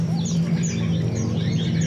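Small caged songbirds chirp and tweet continuously at a bird shop kiosk stocking Javan bulbuls and local zebra doves, with many overlapping calls over a steady low background hum.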